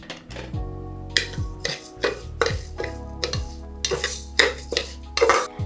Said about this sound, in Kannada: ಸ್ವಲ್ಪ ತುಪ್ಪ, ಇದು ಹೆಸರುಬೇಳೆ ಹುರಿಯೋದಕ್ಕೆ